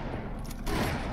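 Enemy gunner's machine gun firing in the video game Halo 3: ODST, a dense rattling burst that runs through the whole short moment and grows a little louder near the end.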